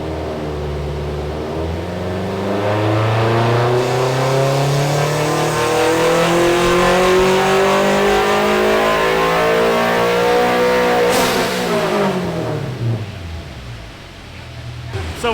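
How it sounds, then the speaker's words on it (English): A turbocharged Toyota GR86 running E85 on a dyno climbs through a long, loud rev pull, pitch rising steadily, then lets out a sharp hissing blow-off valve release as the revs drop away. "That blow off valve sounds so good."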